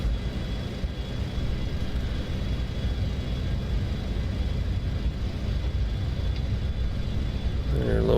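A steady propeller airplane engine drones in the X-Plane 10 flight simulator, a constant mid-level rumbling hum that holds unchanged throughout.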